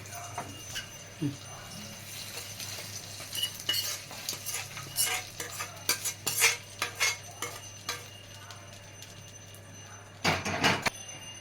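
A spoon scrapes and clinks against a metal pan in irregular bursts, stirring a tempering of mint into gongura rice close by, with a low steady hum underneath.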